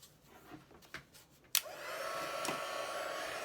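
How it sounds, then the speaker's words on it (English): A heat tool switches on with a sharp click and blows a steady, loud rush of hot air over a paper craft project, holding on continuously after a few faint taps and handling sounds. "I'm going to bring in our heat tool"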